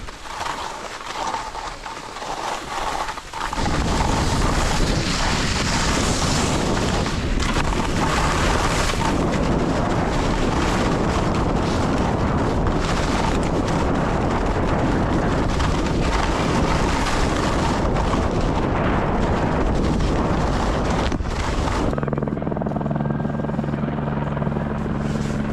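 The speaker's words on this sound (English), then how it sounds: "I want you to keep an eye on the helicopter the whole time" A helicopter comes in to pick up backcountry skiers on soft snow: after a quieter, wind-blown start, a loud, close, pulsing rotor roar with a deep engine drone takes over and holds steady before cutting down abruptly near the end.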